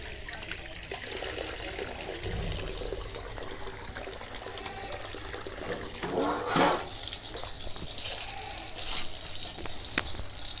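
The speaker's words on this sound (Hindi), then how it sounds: "अब गोश्त जो है वो धोएंगे।" Running tap water splashing steadily while one kilogram of raw chicken is washed for Bombay biryani, a continuous trickle and pour with a brief louder gush midway, close and moderately loud.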